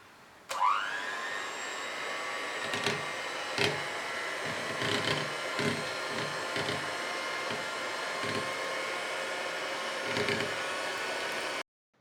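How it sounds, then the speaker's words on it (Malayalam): An electric mixer beating whipping cream on low speed for a no-cook mango biscuit pudding: a steady motor whir that starts abruptly, runs for about eleven seconds with light knocks against the bowl, then cuts off. "ആദ്യം ഒരു ലോ സ്പീഡിൽ വെച്ചിട്ട് ഒരു 2 മിനിറ്റ് നമുക്ക് നന്നായിട്ട് അടിച്ചെടുക്കാം."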